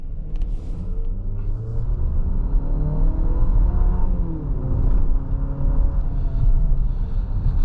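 A 2026 Infiniti QX60 Autograph engine in sport mode rumbles and revs steadily for several seconds, the pitch climbing and falling as the motor is pushed hard, close and loud.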